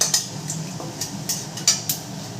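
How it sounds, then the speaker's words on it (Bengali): A spoon stirs spices in oil in a kadai, giving a series of light, quick metallic scrapes and clinks at an uneven pace over a soft background. "একটু নেড়ে নিচ্ছি।"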